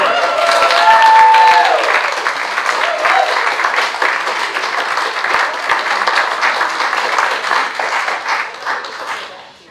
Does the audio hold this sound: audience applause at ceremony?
yes